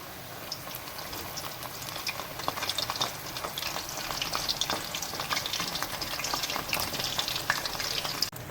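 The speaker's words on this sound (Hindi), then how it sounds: "बैंगन के पकोड़े हमारे परफेक्टली कुक हो रहे हैं।" Brinjal pakoras fry in hot oil with a fairly quiet, continuous crackling sizzle and dense bubbling pops that carry on without a break.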